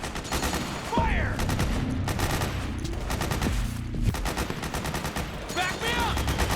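Soldiers firing guns in the Metal Gear Solid 4 video game: a dense stretch of continuous automatic gunfire and overlapping shots, loud and close, with brief whistling sweeps and shouted battle commands mixed in.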